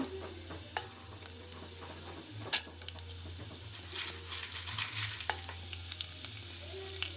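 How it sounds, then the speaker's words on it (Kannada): Mustard seeds, cumin and urad dal frying in about four spoons of hot oil for potato palya, a steady soft crackle and sizzle with a few sharp pops and light stirring scrapes, close and moderately quiet, no voices. "ಕಡಲೆಬೇಳೆ ಎಲ್ಲ ಹಾಕ್ಕೊಂಡು ಇವಾಗ ಫ್ರೈ ಮಾಡ್ಕೊಳ್ಳೋಣ"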